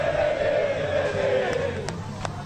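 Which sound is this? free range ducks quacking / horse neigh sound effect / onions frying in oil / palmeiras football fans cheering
palmeiras football fans cheering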